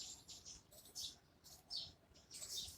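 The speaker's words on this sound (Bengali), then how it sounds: "পাখিটা খুব সুন্দর ডাকছে, দেখো আওয়াজটা আসছে কি সুন্দর।" Small birds chirp and tweet on an empty early-morning road, with bright, repeated high calls in short bursts over a faint, steady background.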